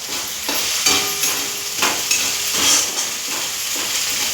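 A spoon scrapes and stirs through sabudana in a hot pan in repeated strokes, over a steady close sizzle of food cooking.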